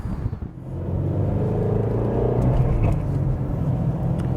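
A 2017 Ford Mustang Shelby GT350 with a valved exhaust rumbles steadily from inside the cabin, a deep continuous engine drone that holds at moderate loudness with faint mechanical whir.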